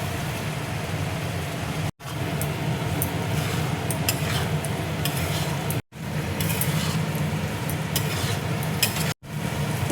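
Boiled eggs stirred into hot egg keema masala in a pan, a continuous dense sizzle with scraping spoon strokes, loud and close, briefly cut off twice.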